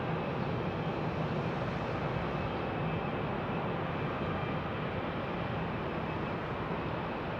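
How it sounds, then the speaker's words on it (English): A Boeing 737 MAX 8 on a maintenance test flight at Phoenix Sky Harbor Airport, heard as a steady, broad jet engine roar at moderate distance, unbroken and without voices. "So this is the 737 MAX 8 that I believe is a maintenance test flight"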